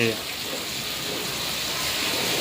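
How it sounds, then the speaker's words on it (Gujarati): Steady heavy rain drums on a house rooftop in a thunderstorm, a continuous close hiss that builds slightly, with a brief sound at the start. "જો વરસાદ પડ્યા છે આટલું ઢબ ઢબાતે બોલાવે છે 15 મિનિટ થઈ ગઈ છે"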